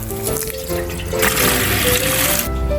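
Water pours and splashes into a pot while a steamed banana dessert is being prepared, a steady running gush that grows fuller midway, heard alone without talk.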